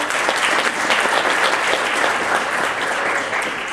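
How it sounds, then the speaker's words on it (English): Sustained applause from a crowd at a university poetry slam and awards ceremony, steady and dense clapping throughout with no pauses. "let's hear it again for Stephanie McCarroll"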